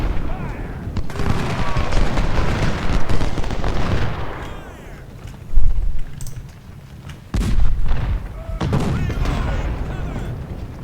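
Civil War battle in a strategy game at First Bull Run, with dense crackling musket volleys and heavy artillery booms rolling in waves and sharp bursts, loud and continuous, while someone talks briefly.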